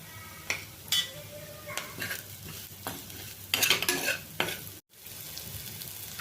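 Spiny gourd (kartule) vegetable being stirred and sautéed in a pan with a utensil, sizzling steadily beneath repeated scraping and stirring strokes, with brief louder bursts of clatter against the pan.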